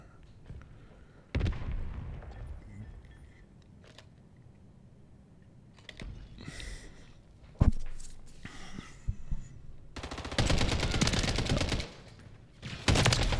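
MTZ 762 gunfire in a video game: scattered sharp shots and short bursts separated by quieter gaps, ending in a loud sustained volley of rapid fire.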